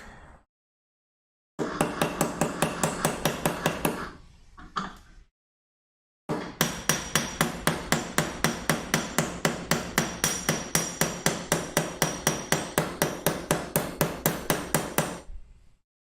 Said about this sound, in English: Hammer, hammer, hammer.